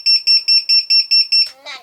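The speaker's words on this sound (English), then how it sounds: "if I change modes, we get a little beep" A ViFly Finder drone finder buzzer in beeper mode sounds seven rapid, loud, evenly spaced high-pitched beeps up close, followed by a brief scrape or rustle.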